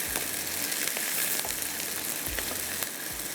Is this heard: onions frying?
yes